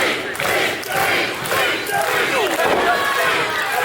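A wrestling crowd at an Aotearoa NZ Heavyweight Championship match cheers and yells loudly and continuously, a dense roar of many voices with rising shouts.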